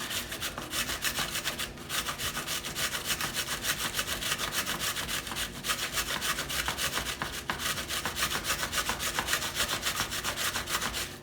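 Cabbage rasped against a cheap dollar-store grater for Jamaican-style coleslaw, a steady run of rough scraping strokes close up, continuous and fairly loud with no voices.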